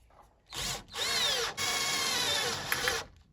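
An electric drill drives self-tapping screws, with three loud whirring bursts of rising motor pitch separated by brief pauses, close up and with no speech over it.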